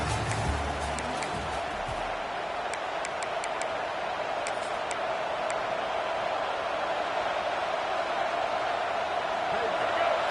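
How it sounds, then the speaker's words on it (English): A hockey arena crowd roars steadily through the whole stretch, a broad continuous wash of noise with scattered sharp clicks and knocks, while a commentator talks over it. "The roar of the crowd trying to fuel this defense to keep them pinned in their own end."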